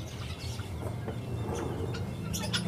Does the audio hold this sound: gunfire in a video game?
no